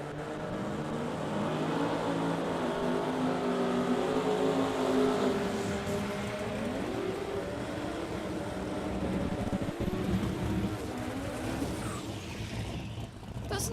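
A Ford Falcon drag race car engine idles and revs at the start line of an Australian sports compact drag racing event, a loud, steady rumble with a slightly rough, uneven note and shifting pitch, continuous throughout.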